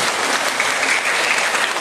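Steady, loud applause fills the room as another judge is introduced at a school competition, a continuous dense hiss of many hands clapping together without pause.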